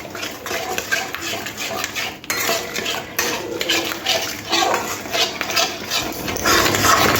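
Sour yogurt stirred into a pan for a cauliflower curry, a continuous close scraping and clattering of a spoon against the pan, steady and busy throughout, with no talk.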